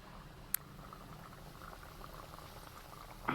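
Semolina biscuits fry in hot oil, giving a faint, steady bubbling sizzle that runs throughout, with one sharp tick early and a brief louder crackle near the end.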